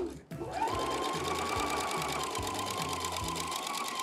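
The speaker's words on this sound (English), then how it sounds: "now all we need to do is feed the fabric through the machine" A sewing machine fitted with a gathering foot stitches fabric after a brief pause, then runs in a fast, steady, close-up rattling whir that continues to the end.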